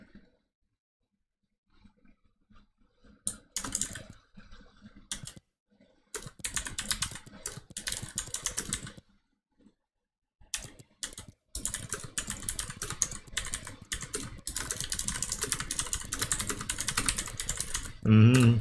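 Computer keyboard typing in bursts of rapid clicking keystrokes, close and fairly loud, separated by pauses, with a voice speaking at times.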